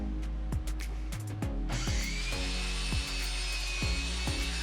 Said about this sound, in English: I just cut it as far as I can and then flip the piece around to cut the rest of the way.